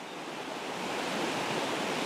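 A stream rushes after a storm, a broad steady roar of churning water that swells slightly, close and continuous with no voices.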